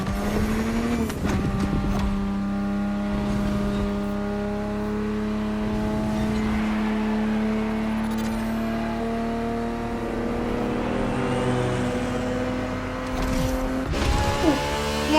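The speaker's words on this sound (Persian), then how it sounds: "GTB4 is the perfect vehicle for you to experience Ferrari racing as it felt back in the 70s." Ferrari GTB4 from the 1970s racing in The Crew Motorfest, its engine droning at a steady high pitch for most of the lap, with brief gear-change dips and a louder surge near the end, no talk.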